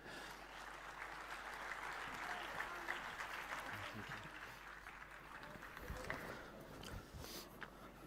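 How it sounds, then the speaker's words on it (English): An audience at the Cardano Summit 2022 applauds a DeFi panel as it walks onto the stage. The clapping sounds faint and distant, a continuous soft patter running throughout, with a few voices and footstep-like knocks near the end. "give them a huge round of applause as we welcome them to the stage"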